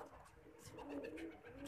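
A Mohar Wala pigeon coos softly and low, a brief murmuring coo heard faintly at close range.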